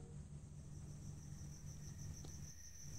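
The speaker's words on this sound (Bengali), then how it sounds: "আর সেই সঙ্গে আসছে ঝিঝির এক টানা শব্দ" Crickets drone continuously through an open west-facing window of an old guest room at night, a steady faint high chirring over low background rumble.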